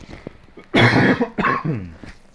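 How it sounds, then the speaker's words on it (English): A single harsh cough rings out close by, followed by a second rougher cough, with nothing else around. "I've got a cough."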